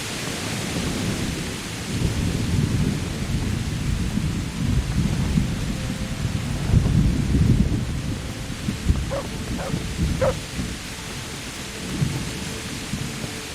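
A thunderstorm passes over Kingdom Come: Deliverance. Heavy rain keeps up a steady wash while low rumbles of thunder roll in repeated waves. Several sharp short knocks sound near the end.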